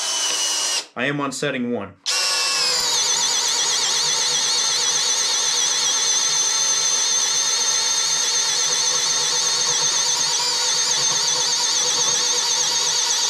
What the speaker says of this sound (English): This is with a standard paddle bit. Let's see how well we do. We're going to drill it right here.